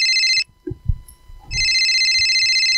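A telephone ringtone sounds for an incoming call during a Tamil church-youth stage skit. It rings loud and steady, cuts off for about a second while voices and movement are heard, then resumes at full volume.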